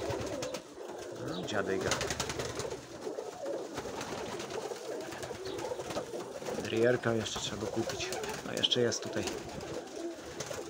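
Domestic pigeons cooing in a loft, soft throaty coos rising in bursts, mostly in the second half, beneath someone talking in Polish close by.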